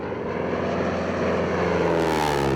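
A 1939 Harvard propeller plane flies overhead in New Zealand's Wairarapa region, its engine drone steady and loud throughout, growing a little fuller toward the end as it passes.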